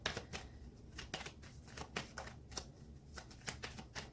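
Tarot cards are shuffled close by in quick, repeated riffling bursts of soft papery snaps, a steady rhythm of crisp flicks at low volume, with no talking over them.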